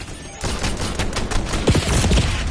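Rapid gunfire in Call of Duty Black Ops 6 crackles in dense, overlapping bursts after a brief quiet start, with a few sharper, louder shots near the end.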